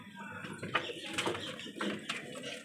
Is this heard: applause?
no